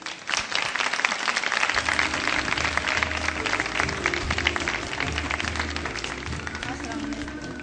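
Studio audience applauding to welcome invited guests, housemaids, onto a Ramadan iftar show set, steady dense clapping with crowd noise and some voices throughout.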